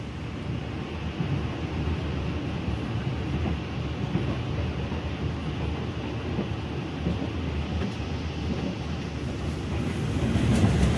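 An economy-class stainless steel direct train runs from Jakarta toward Semarang Tawang, a steady low rolling rumble inside the carriage that swells slightly near the end, with no voices.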